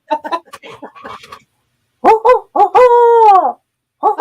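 A person imitating a barred owl call with a rhythmic series of hooting vocal notes ending in a long drawn-out, descending hoo, loud and close, with quieter chatter just before it.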